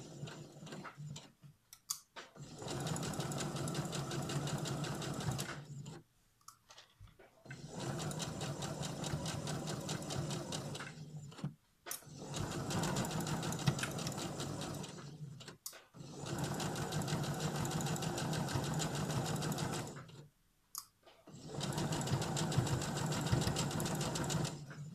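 A sewing machine stitches bias binding onto fabric in five long, steady bursts of whirring, separated by brief pauses as the needles are pulled out and the work is repositioned.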